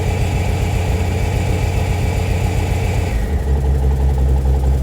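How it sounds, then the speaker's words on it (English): A 1980 Jeep Cherokee Chief engine runs at fast idle, close and loud, with a steady rapid low throb that shifts to a deeper, smoother drone near the end. "There we go, freaking fast idle."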